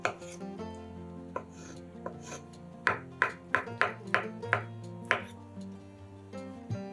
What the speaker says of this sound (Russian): Три вареных яйца нарезаем кубиками.